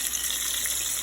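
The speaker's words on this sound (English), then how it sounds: "Rinse them off." Tap water gushes steadily into a kitchen sink as dishes used for egg and flour are rinsed, a continuous, close, even rush of running water with no voices.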